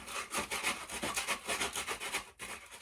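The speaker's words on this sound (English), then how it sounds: "It's really good for sanding out holes." Sandpaper rolled into a tube rasps back and forth inside a hole in wood, a steady rhythm of close rubbing strokes about five per second, with no talk.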